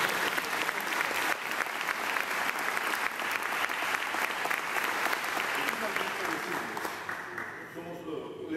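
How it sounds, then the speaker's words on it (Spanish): Applause for moderators at a cooperative sector closing event, a full, sustained round of clapping from a large audience, steady throughout and fading a little at the end while a voice speaks underneath. "Aplauso para nuestros moderadores."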